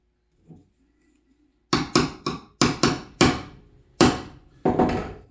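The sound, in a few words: chisel being struck to chop out a wood joint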